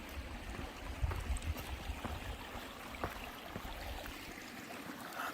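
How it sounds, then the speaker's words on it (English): A small trickling waterfall on an Arizona desert trail, a faint, continuous gurgle of flowing water with a few soft splashes and ticks, heard at a modest distance. "Look at that waterfall."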